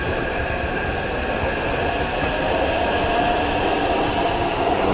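A train rolling past on a livestreamed train cam gives a loud, constant rumbling roar with a steady high tonal hum and no pauses for the full stretch.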